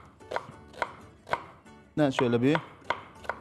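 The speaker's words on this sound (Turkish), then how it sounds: "küçük küçük küp küp doğrayacağım." Knife chopping onions into small cubes on a board, a steady series of sharp, close taps repeating about every half second, briefly interrupted by someone speaking in the middle.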